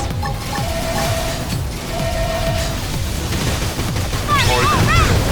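Gunfire in Xenoblade Chronicles X, a dense, continuous rattle of shots and booms under a busy battle soundscape, steady and loud across the whole stretch with bright chirping effects near the end.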